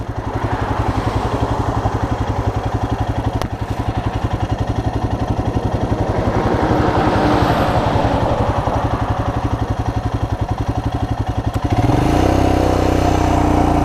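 A Royal Enfield Himalayan's single-cylinder engine thumps loudly and steadily while riding along a highway, with rushing wind noise, then the engine note shifts lower near the end.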